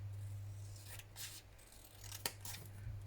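Scissors cut paper for a textured French tag, a few soft close snips and slicing strokes with one sharper click, quiet against a low steady hum.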